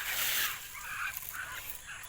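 Nasal quacking calls from a few farm ducks, faint and a bit distant, repeating irregularly over a soft outdoor hiss.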